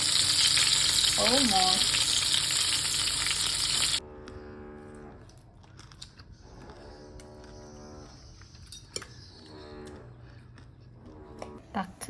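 Fried chicken sizzles loudly and steadily in a pan for a few seconds, then the scene cuts to a quieter room where people talk over faint background noise.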